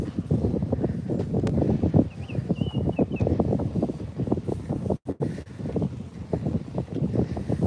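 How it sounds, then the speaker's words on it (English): Wind gusts over a choppy lake, rushing and buffeting the microphone in uneven bursts with a brief drop midway, with faint lapping water underneath. "Now that the wind is picking up and getting cold again."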